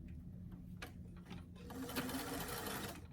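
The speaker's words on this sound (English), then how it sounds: "So I'm going to start that seam with a few back stitches to secure, matching up that hem edge" A sewing machine runs back and forth in short bursts, back-stitching to lock the start of a seam on a small doll T-shirt, steady close-up motor whir with some ticking, no talking.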